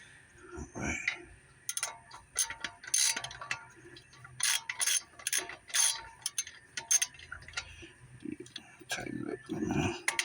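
Ratchet clicks tightening bolts on the brakes of a 2002–2009 Chevrolet Trailblazer, coming in short bursts of rapid ticking, close up and moderately loud, with brief speech in between.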